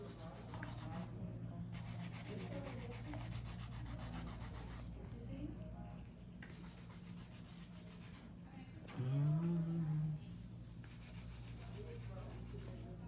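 A hand file rubs across a coffin-shaped gel nail in a full set, making short, close rasping strokes in bursts with brief pauses, over a low steady hum.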